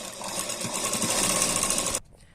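A sewing machine stitches a double katori blouse in one steady, continuous whirring run close by, then abruptly stops just before the end.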